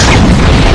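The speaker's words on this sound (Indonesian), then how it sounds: "Setelah ledakan kembali terjadi" A loud explosion booms in a film about a psychopath staging a real killing, where flammable liquid feeds a room fire; a dense, sustained roar fills the whole short burst before cutting off abruptly.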